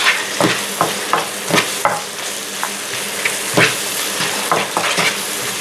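Black pasta with basil and garlic stirred in a sizzling pan, a constant frying hiss broken by repeated scraping strokes of a utensil against the pan, close and fairly loud.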